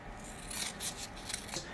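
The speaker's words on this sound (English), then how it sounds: "you can take some scissors and just cut a strip off" Scissors snipping a strip of reflective Tenacious Tape, a few quick crisp cuts close to the microphone, quiet and alone.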